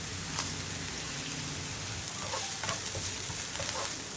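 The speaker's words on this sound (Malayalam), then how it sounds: "കായപ്പൊടിയും കൂടി ഒന്ന് കുക്കായി വരട്ടെ." Asafoetida powder frying in a pan of paniyaram batter mix, a steady close sizzle with light stirring scrapes throughout, no voices.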